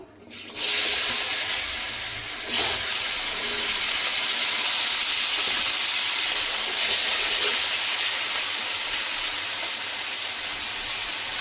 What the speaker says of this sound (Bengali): মাছ ভাজা তেলে আলুগুলো ভেজে নেব।